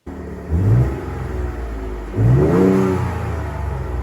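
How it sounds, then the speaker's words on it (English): A non-Raptor truck engine with its stock exhaust idles with a steady exhaust drone, then revs up twice in quick bursts, each rise swelling loud before settling back to idle. "how I made my exhaust go from this"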